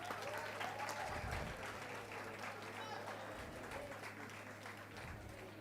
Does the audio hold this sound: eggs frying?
no